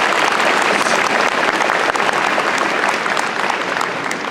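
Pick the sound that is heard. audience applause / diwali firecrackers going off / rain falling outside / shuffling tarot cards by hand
audience applause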